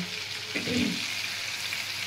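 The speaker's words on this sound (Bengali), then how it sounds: "এই দেখুন বন্ধুরা, মাছগুলো আমি বেশ উল্টে পাল্টে ভেজে নিয়েছি" Pieces of hilsa fish frying in hot oil give a steady, moderately loud sizzle with a soft crackling texture throughout, and no voices.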